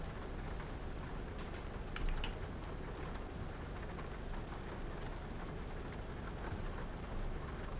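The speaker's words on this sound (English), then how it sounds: "So that rain is stopping." Steady rain in Euro Truck Simulator 2 patters heavily and continuously across a surface, a dense wash of drops with a brief louder burst near the start.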